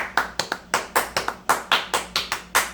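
Hand claps beat out a Go Mavs cheer cadence, a dozen sharp claps in a rhythmic pattern of quick pairs and single hits, close and alone with no talking.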